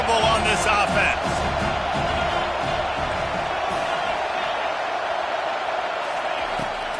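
A stadium crowd in a college football video game roars in a dense, steady wash of cheering and noise, loud and continuous, with a louder burst near the start.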